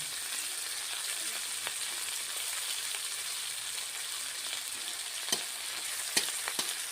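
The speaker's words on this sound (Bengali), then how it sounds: "একটা শুকনা লঙ্কা ফোড়ন দিলাম" Dry red chili crackles and sizzles in hot oil with browning onions for a bottle gourd and fish head curry, a steady close hiss broken by a few sharp pops near the end.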